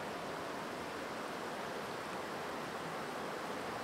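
Creek water drains steadily into a freshly opened sinkhole in the ground, a constant broadband rushing hiss with no pauses and no voices.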